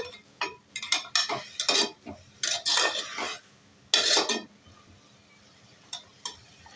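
Spoon scraping and clinking in a pan as bottle gourd halwa is fried and stirred with milk. Stirring comes in short, close bursts with pauses between them, then a couple of faint clicks.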